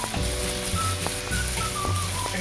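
Onion and ginger-garlic masala sizzling in a hot pan while cooking Ghevda bhaji, a close, continuous frying hiss with faint clinks and taps of a utensil.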